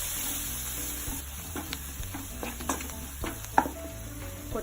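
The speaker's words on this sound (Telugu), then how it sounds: "ధనియా పొడి, గరం మసాలా పొడి, మిరియాల పొడి, పసుపు పొడి, కారపొడి, బ్లాక్ సాల్ట్, సోయా సాస్ ఇవి కొంచెం వేయించుకోవాలి." Coriander, garam masala, pepper, turmeric and chili powders with black salt and soy sauce frying in a pan for Hakka noodles: a steady sizzle broken by light stirring clinks and scrapes.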